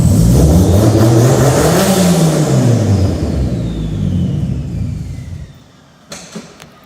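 Turbocharged SR20 engine in a 1991 Nissan S13 drift car revs hard, loud and close, with rising and falling pitch sweeps before the revs drop away to idle and a couple of short blips near the end.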